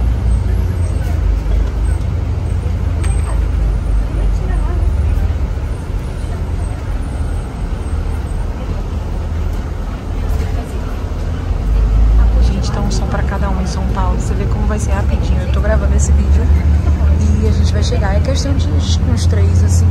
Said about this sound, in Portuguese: Então é esse ônibus aqui.